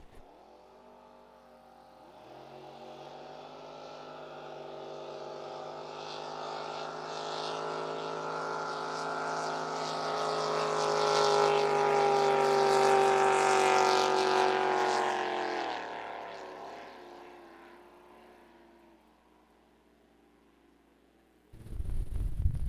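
Drag racing boats launch in a qualifying run at San Angelo, a loud engine roar building steadily over about fifteen seconds with rising harmonic tones, then fading away before a brief burst of noise at the end.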